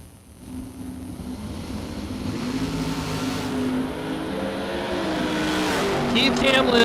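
Nova and Cadillac Roadster drag racing cars launch side by side at a Superbucks drag race, engines rising into a steady loud roar with tire noise as they pull away, heard beneath an announcer's commentary.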